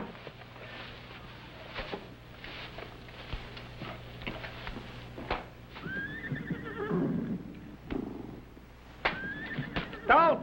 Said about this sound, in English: What do you suppose is bothering them horses?